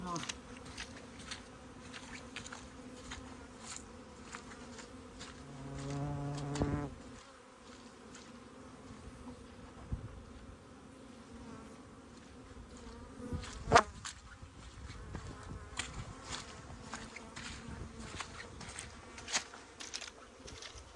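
Honeybees buzz steadily throughout an early-March first inspection of the year on a backyard hive, a close, continuous drone with individual bees passing near and a few soft knocks and handling noises.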